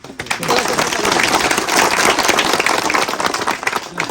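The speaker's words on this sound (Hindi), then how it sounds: "एक बार में सब ताली मार के बाद यहाँ को स्वागत करते हैं" A crowd at a Tibetan market event in Ranchi bursts into sustained welcoming applause, dense clapping from many hands that holds steady for several seconds, with faint voices underneath.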